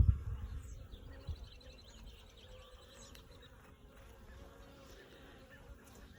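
Honeybees buzz around beehives during a hive inspection, a faint, steady hum of many insects close by with a few louder passes near the start and occasional birdsong behind.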